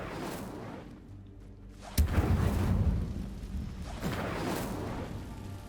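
An Incendio fire spell cast in Hogwarts Legacy, a sudden whooshing burst of flame that flares sharply and then roars and crackles for a couple of seconds, with a second softer swell of fire following.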